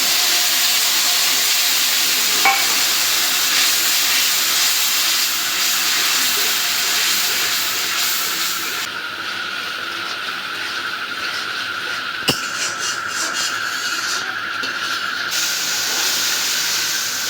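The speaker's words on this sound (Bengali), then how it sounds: "এখন মশলাটা কষানোর জন্য একটু পানি দেব" Water poured into spice paste frying in oil, a village-style meat curry base, gives a loud, steady hiss of steam and sizzle that holds throughout, thinning slightly partway through, with one sharp click near the end.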